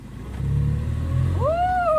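A canal boat engine on the Bridgwater and Taunton Canal, leaving a lock, throbs low and steady close by, then revs up, its pitch rising and holding loud toward the end.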